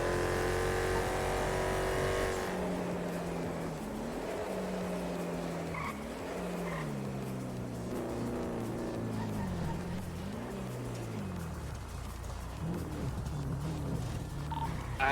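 A fast car in GTA V NoPixel roleplay, its engine revving up and down in long swooping pitch changes under a steady roar, loud and continuous, with a brief skid-like burst at the start.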